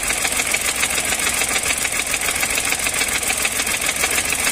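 Clutch noise from a 2023 Chevrolet Onix fitted with an aftermarket helper clutch, heard as a loud, steady whirring hum with the engine running, close and unbroken.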